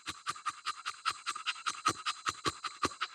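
A hot bulldog pants rapidly and steadily during a breathing test in 85-degree heat, with quick, even, close breaths and a slight raspy edge, and no voices.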